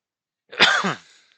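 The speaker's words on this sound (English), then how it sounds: "my cough is still here" A single close, sharp cough, one harsh burst that trails off into a brief rasp, alone against silence.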